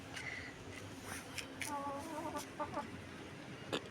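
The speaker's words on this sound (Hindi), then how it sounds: "हमने एक दूसरी मुर्गी ली है, ये देखें वाइट वाली।" A white backyard chicken, hen or rooster, gives a few faint, soft clucks amid quiet outdoor background noise, with a brief burst of clucking in the middle.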